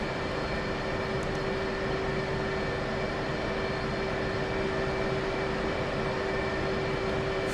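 F/A-18C jet engine hums at a steady idle on an aircraft carrier deck in the flight game DCS World, a constant whine with a broad roar beneath, continuous and unchanging.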